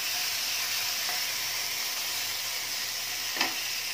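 Garlic and spice masala sautés in a pan with a little oil, making an even, steady sizzle close by. A single soft knock sounds near the end.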